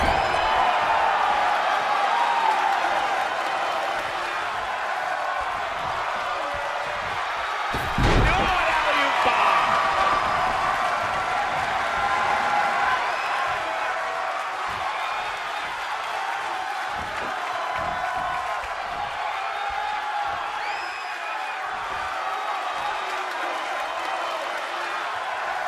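A roaring arena crowd cheers and shouts throughout a wrestling match in WWE 2K20, with a sharp slam-like impact near the middle and a commentator talking over the noise.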